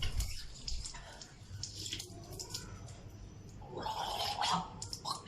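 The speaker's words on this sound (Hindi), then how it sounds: "गरारे करने।" Water is gargled in the mouth during ablution (wudu), a wet bubbling and splashing up close with running tap water, the gurgling building strongest near the end.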